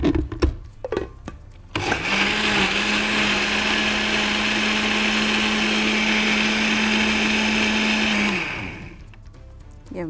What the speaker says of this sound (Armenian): Էս մի հատ խառնում ենք։